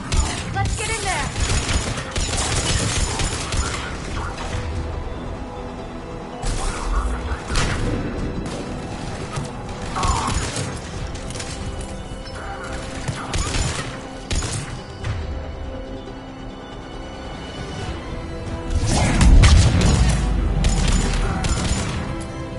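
Gunfire crackles through a chaotic Mass Effect 3 battle at a checkpoint, with dense bursts, impacts and crashes layered continuously over about twenty seconds and a heavier blast near the end, with voices speaking amid the combat.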